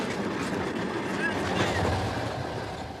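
A train in Russia rumbles steadily throughout with a broad, continuous rolling noise and a brief high squeal midway, with faint voices in the background.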